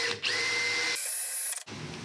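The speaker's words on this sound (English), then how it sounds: "Do a quarter inch drill bit for the wire." A power drill with a quarter-inch bit whirs steadily while boring a wiring hole for a Minn Kota Riptide Terrova trolling motor install, its pitch shifting as the bit bites in, then cuts out briefly and spins again for a shorter burst.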